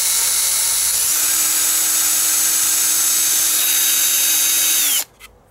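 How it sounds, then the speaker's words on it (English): A power drill bores through a piece of wood for a homemade cable project, giving a loud, steady, close whine that holds for several seconds and then stops abruptly. "Next, I'm gonna drill through the other end."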